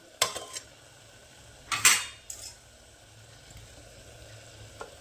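Raw chicken drops into a hot pan in a village kitchen with sharp clatters of utensils against metal, a couple of bursts near the start and middle, then a low steady sizzle underneath.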